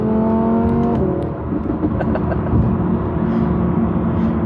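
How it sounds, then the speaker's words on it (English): A 2017 Audi R8 V10 Plus in dynamic mode on the highway, its V10 exhaust droning loud and steady at high revs with a rising, sustained roar and no talking. "The exhaust livens up."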